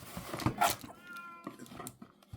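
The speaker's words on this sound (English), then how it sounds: "My cat is howling and meowing for me to stop what I'm doing so I can go play with her" A pet cat howls and meows insistently indoors, drawn-out wavering cries mixed with clatter and handling noise, moderately close.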